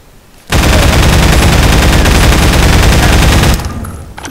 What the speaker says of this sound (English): Let's get out the pulse rifle.